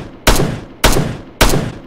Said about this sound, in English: The HMG close sounds like this.